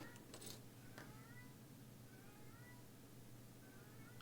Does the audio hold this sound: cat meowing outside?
yes